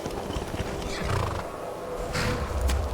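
A horse whinnies amid Skyrim game ambience, with hoof clops and low rumbling underneath; the neigh rises briefly and fades.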